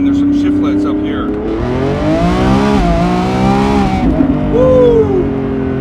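A Lamborghini Revuelto in Corsa mode accelerates in first gear, its engine note climbing and falling in rising, sweeping pitch, loud and close, with a brief lift before pulling again.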